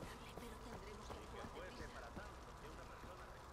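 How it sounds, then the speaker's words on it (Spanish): Bees buzz around a nest in the video game Far Cry 4, a faint, continuous insect drone with soft intermittent thuds beneath it. "Hay un nido de abejas por aquí. Se oye, no sé dónde."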